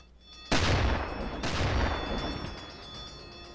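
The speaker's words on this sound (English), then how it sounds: "They are indeed shooting at us." Two heavy booming blasts of warship gunfire aimed at a U-boat in a submarine game, each a loud sudden crack with a long rumbling tail, the second arriving about a second after the first.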